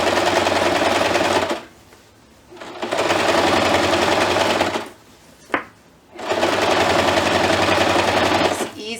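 A sewing machine stitches ribbon onto a Christmas tree skirt in three loud, steady bursts of rapid whirring, with short quiet pauses and a small clunk between runs.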